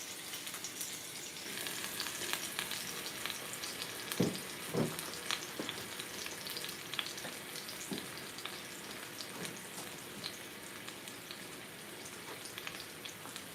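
A seasoned pork chop fries in a hot skillet in a home kitchen, giving a constant crackling sizzle with scattered pops and a couple of louder spits, heard close and without speech.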